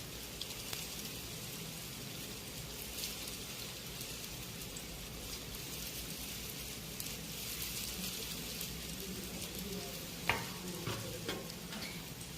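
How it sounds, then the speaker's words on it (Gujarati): Sev rolls deep-fry in hot oil over a full flame, a soft, steady bubbling sizzle heard close, with a few small clicks near the end. "તળાઈ ને ત્યાં થોડીક વાર એને રેવા દેવાના અંદર, નહીં તો તેલમાં એ છૂટું પડી જાય"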